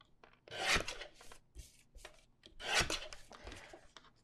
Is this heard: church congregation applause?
no